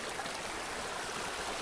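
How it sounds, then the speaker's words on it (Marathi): Water running along an irrigation channel near a waterfall in the Ratnagiri countryside during the monsoon, giving a steady, even rushing wash at low level, continuous and unbroken, with no voices. "हे बघा कसं पाटाचं पाणी आहे"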